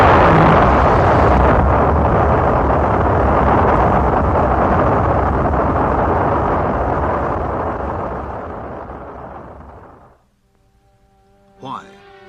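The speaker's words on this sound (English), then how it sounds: "This launch carried an Earth satellite into orbit" A rocket launch carrying an Earth satellite into orbit, heard as a loud, sustained broadband roar that slowly fades away over about ten seconds into near silence, followed by a brief faint noise.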